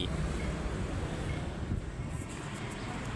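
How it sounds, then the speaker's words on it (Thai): Outdoor wind blowing steadily near a city-centre shopping mall in Laos on a cool evening, a broad continuous rush with mic buffeting and no clear talk. "ถือว่าอากาศในมื้อนี้ก็ เย็นสบายเนาะมีลมพัดสดชื่น"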